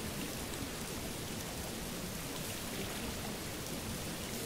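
Rain falls in the video game Morrowind as a dense, even, continuous patter, steady and moderately loud throughout with no talk.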